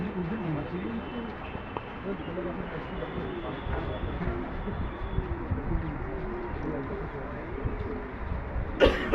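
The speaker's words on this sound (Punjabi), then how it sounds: "ਪਿੱਛੇ ਖੇਡ ਰਹੇ ਨੇ ਕਬੂਤਰ" Pigeons coo behind a house: soft, repeated low rolling calls over a steady outdoor background hum, with a brief sharper noise near the end.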